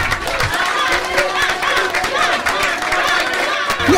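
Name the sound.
applause for the award winner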